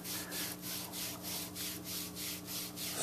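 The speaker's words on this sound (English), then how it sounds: "sand the entire strip that has been stained" Strokes of fine 6-0 sandpaper rubbing along a stained, dried strip of wood for a model sawmill, a steady back-and-forth rhythm of about nine close, soft scratchy passes.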